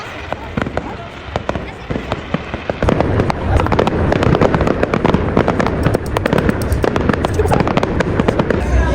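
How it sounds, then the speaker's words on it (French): Rapid crackling bursts of fireworks go off continuously, growing denser and louder midway, with faint voices mixed into the barrage. "il fallait bien qu'on aille profiter un peu des feux d'artifice"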